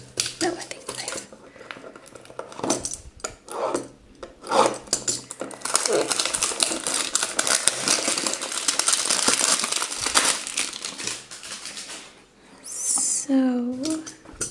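Close-up scraping and crinkling of blind bag plastic packaging being cut open with a knife, building into a steady rasping stretch before a brief pause.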